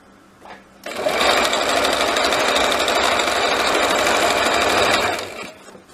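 Sewing machine stitching a pinned curtain hem for Christmas-print curtains, a dense rapid mechanical whirr starting abruptly, running steadily for about four seconds at close range, then tapering off.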